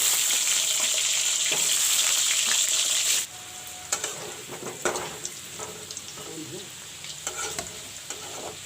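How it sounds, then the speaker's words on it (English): Potatoes frying in oil in a pan while making a potato and pumpkin curry, a loud steady sizzle for the first three seconds that drops to a quieter crackle with scattered stirring clinks and scrapes. "Put in the potatoes to fry."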